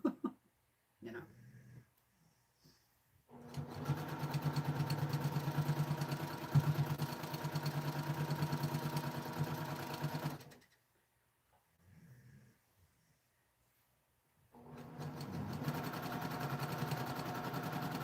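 A sewing machine stitches fabric in two sustained runs of several seconds each, a close, steady whirring hum with a faint rhythmic tick, separated by quiet pauses with brief noises.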